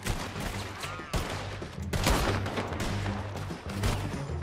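Gunfire in the Red Dead Redemption 2 video game: a dense, continuous volley of overlapping shots with sharp cracks standing out, loud and close, with no talk.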